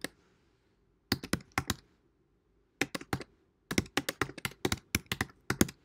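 Keys clacking on a computer keyboard in short bursts of rapid taps separated by pauses, close and fairly quiet, with no talking.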